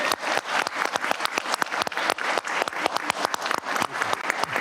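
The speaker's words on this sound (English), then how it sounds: "Let's give them all a big round of applause." Audience applause at a school district board workshop meeting, many hands clapping in a dense, steady burst that carries through without letup, fairly close and lively.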